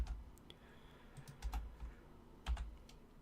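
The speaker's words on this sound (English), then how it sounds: "I just have my mic in the way of my keyboard" Typing on a computer keyboard with a microphone placed in front of it: quiet, irregular clusters of key clicks and thumps, close and soft, with no voices.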